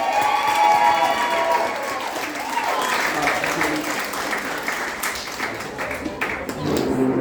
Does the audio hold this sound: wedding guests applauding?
yes